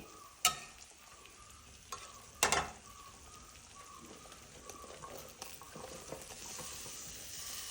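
Soft, steady sizzling of bitter gourd frying in a pan for pickle, with a few sharp clinks and scrapes of stirring scattered through it.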